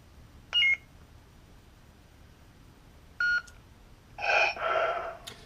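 A custom lightsaber's button gives two short electronic beeps a few seconds apart while held to change sound fonts, followed by a louder, longer burst of synthesized tones, all close and clear over quiet background.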